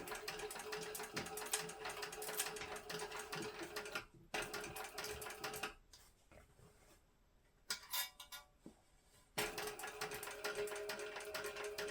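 A sewing machine back-stitches fabric for a homemade book sleeve, running in rapid mechanical bursts separated by short pauses and quieter handling, close and clear with no talking.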